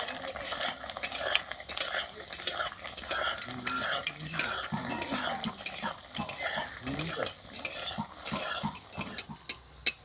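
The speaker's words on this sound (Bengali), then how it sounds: "তেলটা গরম হয়ে গেছে কচুরিগুলো ভেজে নেব" Stuffed kachori frying in hot oil in a pan, busy crackling sizzle with frequent sharp clinks and scrapes of a metal spatula, close up and continuous, with faint voices now and then.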